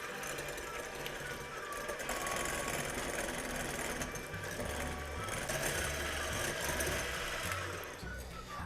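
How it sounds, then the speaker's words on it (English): Electric hand beater whirring at medium-high speed as it whips egg whites with salt and vanilla in a bowl, a continuous steady motor drone with faint rattling, close and unbroken. "I just whipped these egg whites just enough in order to get them to be a little bit frothy"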